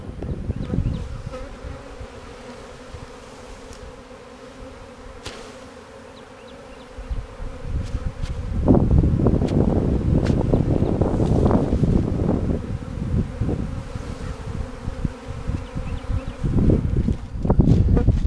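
Bees buzz thickly around a hive, a droning hum that swells louder midway, with wind rumbling against the microphone.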